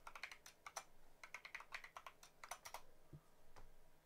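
A password is typed on a computer keyboard, with quiet, close key clicks in irregular bursts and short pauses and no talking.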